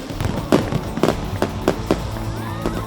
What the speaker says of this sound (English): The annual fireworks show on the Kingston waterfront has been expanded to Ocho Rios Bay Beach